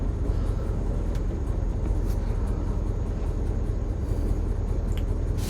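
Ford F100 shortbed bumpside pickup truck with no brakes creeps slowly around a yard, its engine a continuous low, close rumble with occasional faint clicks and no voices.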